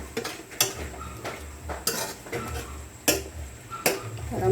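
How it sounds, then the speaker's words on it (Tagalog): Vegetables for chop suey are stirred in a pan after chicken cubes go in, with sharp metal spatula scrapes and clinks on the cookware coming in a steady, unhurried rhythm at close range. "Siyempre, hahaluin natin."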